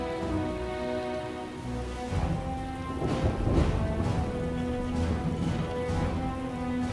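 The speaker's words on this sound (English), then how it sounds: "Love the rain sound effects on this map." Rain falling on the StarCraft 2 map New Repugnancy during a match, a continuous ambient hiss of rainfall with low rumbling swells that rise in the middle, steady and unbroken with no talk.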